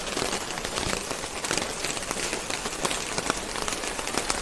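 Heavy rain pours down in a steady, dense hiss of drops drumming on surfaces, loud and continuous throughout with no voices.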